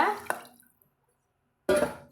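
Water poured into a pot for bottle gourd biryani rice: two short splashy pouring bursts, the second one sharp and sudden, separated by a silent gap.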